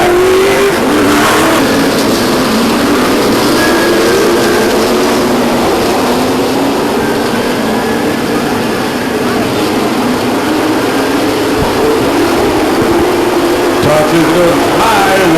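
Stock cars racing at Stockton 99 Speedway in 2003, a dense, loud roar of engines that holds steady throughout, under continuous race commentary.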